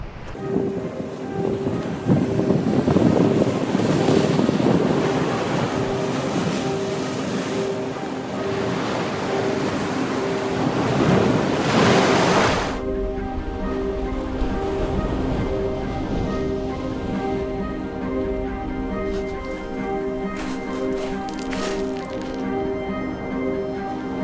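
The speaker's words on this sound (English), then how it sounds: "You can see the ferocity of the sea." Rough sea crashes onto the shore at Climping on the Sussex coast as a loud, steady roar of breaking surf, which eases midway into a quieter wash with a faint tonal hum beneath.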